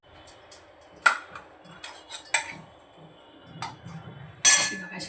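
Cooked kurdai vegetable dish scraped from a wok onto a plate, giving a few sharp metallic clinks and scrapes of a spatula against metal and dishware, close and distinct with quiet gaps between.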